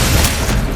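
A single deep, booming gunshot fired at a zombie in the Resident Evil 2 remake, heavy and close with a short low rumbling tail.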